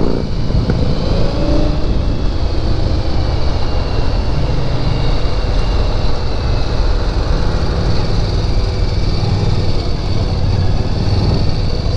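A 2016 Indian Scout motorcycle on a test ride, its engine a steady, loud, continuous rumble with wind and road noise throughout, no voices over it.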